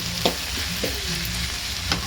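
Okra and onion sautéing in a pan, a steady close frying hiss broken by a few soft stirring scrapes, with no voices.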